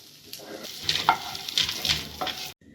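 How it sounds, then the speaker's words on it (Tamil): Onion and garlic sautéing in hot oil in a pan for mutton kola urundai kuzhambu, a steady sizzle broken by scraping stirs, close and clear, ending abruptly with no voices. "இதெல்லாம் நல்லா சேர்த்து வதக்கிடலாம். இந்த வெங்காயம் பூண்டு எல்லாம் நல்லா வதங்கிருச்சு."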